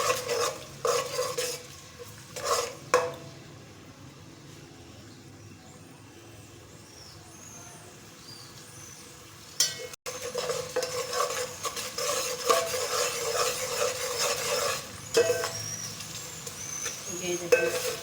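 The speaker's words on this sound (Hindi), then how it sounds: "अब हम इसमें अपना पिसा हुआ लहसुन डालेंगे और इसको ब्राउन कर लेंगे हल्का।" Crushed garlic sizzles steadily in a hot pan over medium heat while a utensil scrapes and stirs, with occasional clanks against the metal.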